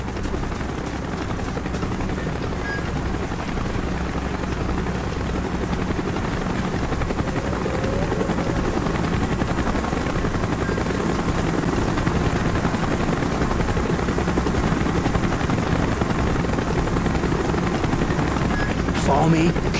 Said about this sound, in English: Chopper's inbound!